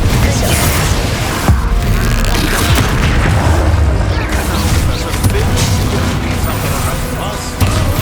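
In Hogwarts Legacy, the Confringo spell sets off dense, continuous booming blasts during a troll battle, loud and rumbling throughout with combat noise and voices layered in.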